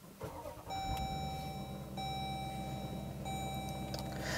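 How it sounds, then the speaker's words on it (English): A 2018 Dodge Durango SRT starts with a push button: three steady electronic chimes sound in sequence inside the cabin while the V8 engine catches and settles into a low idle rumble underneath. "push the red button here to fire up the engine"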